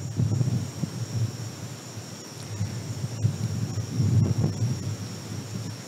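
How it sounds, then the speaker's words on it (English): Strong southeast monsoon wind at night with cicadas, a steady rushing, rumbling gust noise punctuated by occasional bumps, and a faint continuous high insect drone above it. "This is the sound of our monsoon wind, the southeast monsoon that blows really strongly this time of year, and the cicadas at night."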